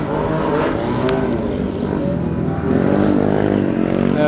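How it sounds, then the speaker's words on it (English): Street motorcycles pass close by an outdoor walk, a loud continuous engine drone that swells and shifts pitch as the bikes go past, with no voices over it. "Street motorcycles just passed by."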